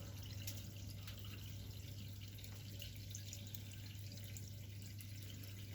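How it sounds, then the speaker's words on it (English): A Maytag MAT12PDEGW top-load washing machine fills with 55°C hot water, a faint steady hiss and trickle with a low constant hum underneath and no voices. "So the machine's going to be filling with 55 degrees Celsius hot water, which is pretty good."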